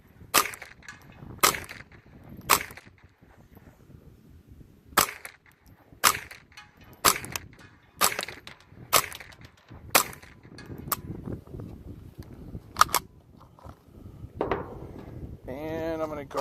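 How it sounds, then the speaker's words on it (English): A .22 rifle is fired outdoors at a target 100 yards away, giving about a dozen sharp cracks spaced a second or so apart, with wind noise and occasional talking in between. "John, why do you need to shoot a 22 out to 150?"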